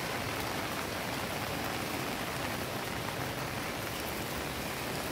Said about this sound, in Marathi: घरातनं निघाल्यापासून पाऊस चालूच आहे. बंदच नाहीये पाऊस.